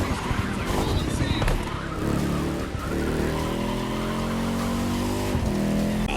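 A Ferrari FXX K, a laboratory-enhanced LaFerrari supercar, drives a lap in the racing game Motorfest. Its engine drones steadily and loudly throughout, with tire noise over the top and no pauses.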